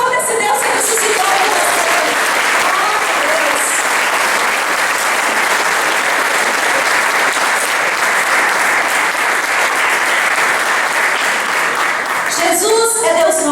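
A church congregation claps together in steady, dense applause that fills the space for more than twelve seconds, loud and continuous, with a voice speaking briefly at the start and again at the end.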